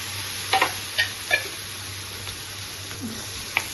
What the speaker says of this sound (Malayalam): അതിൽ ഞാൻ ചുവന്നുള്ളി വെളുത്തുള്ളി വേപ്പിലി ഇട്ടിട്ട് വഴറ്റിയിട്ടാണ്